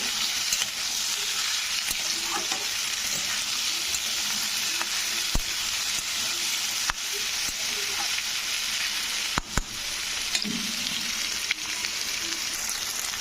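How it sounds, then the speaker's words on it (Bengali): Potatoes frying with browned onions in a pan, a loud continuous sizzle with occasional sharp scrapes and taps of the spatula, close up and with no voices. "এটাকে আমি পেঁয়াজের সঙ্গে আলুটাকে ভালো করে কিন্তু কষে নিব"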